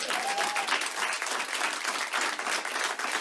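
Audience applause following a trick at an open mic magic show, a steady dense wash of clapping that stays loud and even from start to finish with no talk over it.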